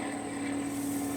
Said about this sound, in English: It's a fucking plane in the air.